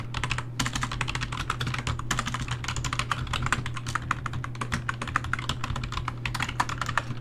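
Fast, continuous typing on a computer keyboard, with dense clicking keystrokes close to the microphone and brief pauses around the half-second and two-second marks, no voice.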